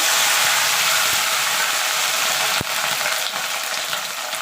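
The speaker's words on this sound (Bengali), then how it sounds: "এবার তেলটা গরম হওয়া পর্যন্ত অপেক্ষা করব দেখেন তেলটা গরম হয়ে গেছে এবার আমি ভেন্ডিটা ভেজে নেব" Okra (bhindi) fries in hot oil with a loud, steady, continuous sizzle close by, broken by a few brief clicks and knocks from the pan, with no talking.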